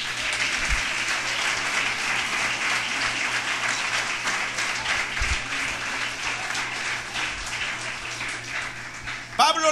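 Sustained applause from a church congregation during a sermon, dense and steady for several seconds with faint voices mixed in and a low hum underneath.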